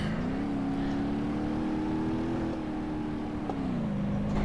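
An Ibishu Pessima Wagon Diesel with four-wheel drive in BeamNG.drive: a loud, steady engine drone that holds its pitch, rises slightly and then dips near the end, with no voices over it.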